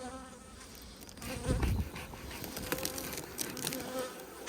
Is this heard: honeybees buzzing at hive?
yes